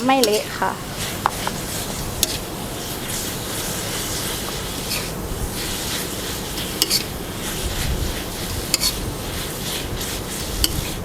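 Glass noodles stir-fried with fresh shrimp in a pan for Thai pad thai, a steady scraping sizzle with occasional light clinks of utensil on metal, close and continuous.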